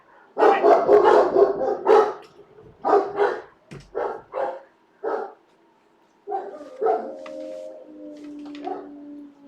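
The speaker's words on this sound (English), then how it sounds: "The dogs are barking super loud." Loud dog barks in short bursts, several in quick succession, then a pause and more barking with a whine near the end.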